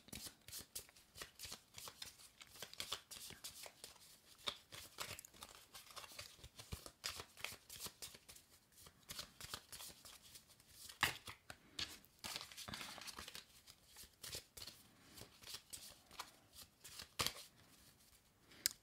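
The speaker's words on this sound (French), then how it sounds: "Ensuite, on prend les cartes de bas, on les mélange aussi." Oracle cards being shuffled by hand, a soft, close, continuous papery riffling and sliding that goes on for the whole stretch with no talking.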